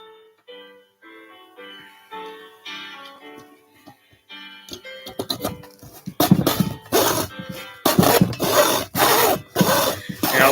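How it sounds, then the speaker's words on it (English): Quiet tapping gives way to a hand saw cutting wood, loud rasping strokes in a steady back-and-forth rhythm, close by. "when you're sawing, you want to make sure you're using the entire blade"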